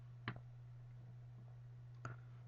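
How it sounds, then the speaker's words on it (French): Two crisp, faint mouse clicks on a computer, roughly two seconds apart, over a steady low electrical hum with no talking. "Et là, on clique sur recherche."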